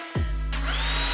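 A Black & Decker Gopak cordless drill starting up and spinning at its slow second speed, a sudden motor whine that settles into a steady, close hum with a rising high whir.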